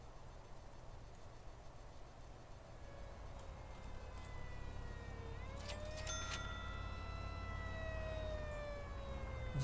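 A fire engine siren in the prison-management game Prison Architect, a faint, distant wail that rises and falls in long sweeps, growing slightly stronger midway over a low steady background hum.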